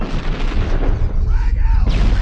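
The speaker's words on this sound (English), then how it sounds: "Fire in the hole! Grenade!" A grenade explodes during a firefight in the video game Halo: The Master Chief Collection, giving loud, dense, rumbling booms with crackling debris throughout.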